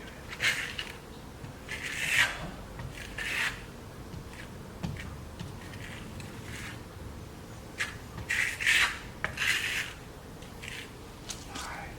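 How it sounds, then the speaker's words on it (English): A big flat trowel sweeps lime marmorino Venetian plaster across a wall in wide swaths, giving soft, close scraping rasps in irregular bursts with quiet pauses between strokes. "You get that big trowel, big swaths, flat."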